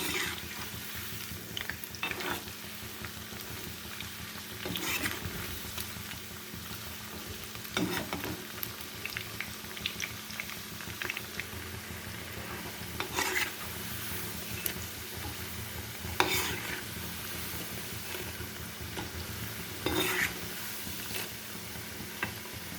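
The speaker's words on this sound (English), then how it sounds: "Deep fry the babycorn in a high flame." Babycorn deep frying in hot oil over a high flame, a steady bubbling sizzle that runs throughout with occasional sharper crackles and stirring clinks, close and moderately loud, no talking.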